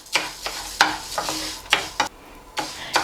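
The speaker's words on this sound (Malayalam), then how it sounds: "ഈ പാനിലേക്ക് ഈ മുതിര ഇട്ട് കൊടുക്കാം എന്നിട്ട് ഇത് നന്നായിട്ടൊന്ന് വറുത്തെടുക്കാം" Dry horse gram shifts and rattles in a hot pan with a few sharp scraping stirs, a soft crackling hiss running between them.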